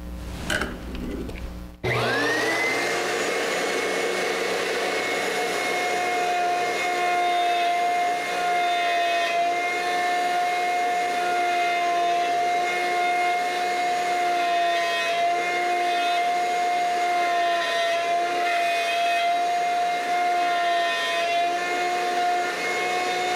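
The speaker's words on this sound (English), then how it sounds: "Let's go ahead and do a long grain mortise and see how well these two pieces come together." A horizontal slot mortiser cuts a long grain mortise in a wooden workpiece, starting with a short clatter and then settling into a loud, steady, continuous whine with a sustained tonal hum that holds unchanged to the end.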